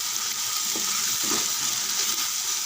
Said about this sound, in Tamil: நல்லா ஒரு 3 நிமிஷம் வதங்கிட்டு